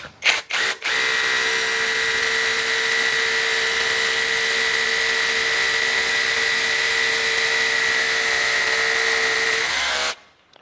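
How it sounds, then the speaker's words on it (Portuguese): An electric drill from a five-tool kit boring into a rough, hard concrete column, with a few short bursts at first, then a loud, steady high-pitched whine held for about nine seconds before stopping. "vamos fazer um furo nessa coluna de concreto bruta aqui"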